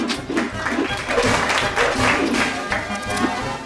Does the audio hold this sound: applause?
yes